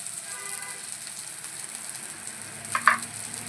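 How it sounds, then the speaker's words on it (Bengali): Ginger garlic paste frying in a pan for a taro flower recipe, a soft steady sizzle with a brief clink of a utensil near the end. "আদা রসুন ভাজা বাটাটাও একটু ভাজা ভাজা হয়ে গেছে"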